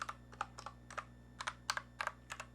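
Mechanical switches on an iLovBee i61 budget hot-swappable keyboard are typed on in a quiet room, giving a steady run of crisp, light clacks at an irregular pace over a low electrical hum.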